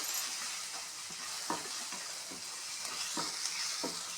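A spoon stirs turmeric and chili powder through hot oil in a frying pan for a dhaba-style bhindi fry. A steady sizzle and hiss runs throughout, with repeated soft scrapes of the spoon against the pan.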